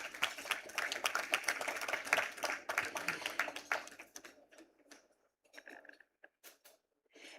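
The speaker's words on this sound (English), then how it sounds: "Yes, you can applaud." Conference audience applauding an awardee at a women's awards event, a lively round of clapping for about four seconds that fades into a few scattered claps.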